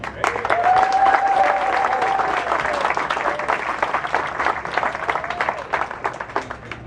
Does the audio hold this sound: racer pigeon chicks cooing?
no